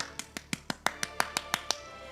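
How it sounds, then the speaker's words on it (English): About nine sharp, evenly spaced claps from a single person, close and fairly quiet, with no other sounds. "Everyone, please clap."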